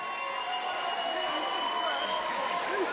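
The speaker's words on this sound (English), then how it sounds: "And a round of applause for the Egg," Crowd applause and cheering for fighter Paul Edmounds at a KFN 4 fight event, a continuous roar of clapping and voices from a large audience, with arena tones and shouting mixed in.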